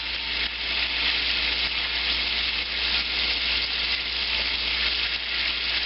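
Veal saltimbocca sizzles loudly and continuously in a pan as wine cooks down, a dense, even frying hiss that stays close and constant with no talk over it.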